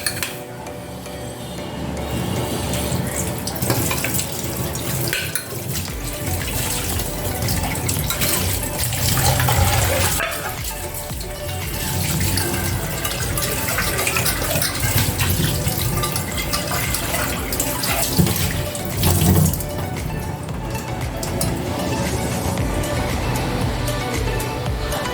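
A pot being scrubbed clean under a running kitchen tap, with a steady rush of water splashing into a sink, continuous and close throughout.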